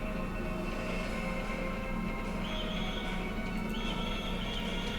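A horse neighs and gallops in the Legend of Dragoon video game, with a loud whinny over fast, continuous clip-clop hoofbeats and a dense, busy game soundtrack beneath.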